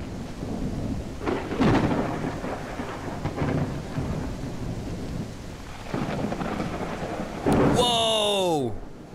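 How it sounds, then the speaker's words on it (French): Heavy rain pours steadily through a thunderstorm, with several deep rumbling thunder rolls breaking out, and a brief falling electronic tone near the end. "Il y a un de ces orages."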